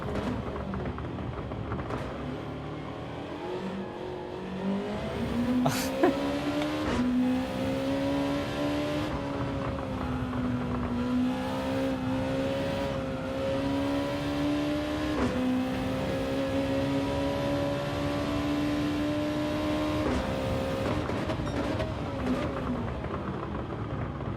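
Race car engines in Gran Turismo 7 drone continuously, a rising and falling whine as the cars accelerate and shift, with a few brief passing bursts over a constant roar.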